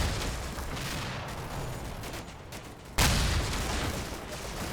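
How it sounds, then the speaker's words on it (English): High explosive artillery shells land around troops in Combat Mission Battle for Normandy: a dense rumbling barrage with a sharp, loud impact blast about two-thirds through, followed by continuing heavy rumble. "High explosive shells landing around them."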